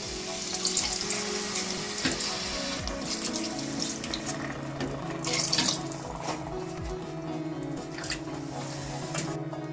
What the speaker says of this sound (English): So now it's time to add water.